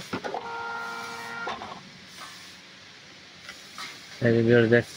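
A JUKI MEB-3200C sewing machine powering up gives off electronic start-up tones: a steady multi-pitched hum for about a second, a quiet pause, then a louder, wavering chime near the end.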